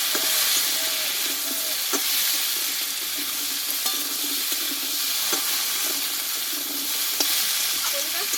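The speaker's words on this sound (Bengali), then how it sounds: "এবার দিয়ে দেবো কেটে ধুয়ে রাখা গাঠি কচুটা এবার ভালোভাবে কচুটাকে কষিয়ে নেবো" Gathi kochu (taro) sautéing in a pan with onion gives a constant bright sizzle up close, broken by occasional soft stirring clicks and scrapes, with no talk.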